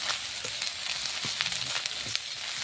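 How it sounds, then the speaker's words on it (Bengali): Four eggs seasoned with salt and turmeric fry and get scrambled in a hot pan, giving a steady close sizzle broken by brief scraping stirs of a spatula. "ডিমের ঝুড়ি ভাজা"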